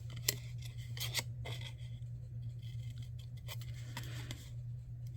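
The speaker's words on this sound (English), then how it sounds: "I'm going to cut out each corner." Scissors snip the corners of paper scraps for gift packaging, a series of quiet, close crisp cuts and paper scrapes over a steady low hum.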